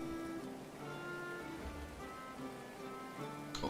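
Rain falls in the medieval game Going Medieval as a faint, steady hiss, with soft tonal game ambience underneath and a brief brighter tick at the end.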